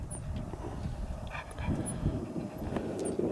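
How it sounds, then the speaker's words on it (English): An upset dog at a desert cabin campout in Mojave, California gives faint scattered yips and whimpering barks at a distance, mixed with wind and background noise. "And there's our noisy dog. Yeah, he's upset."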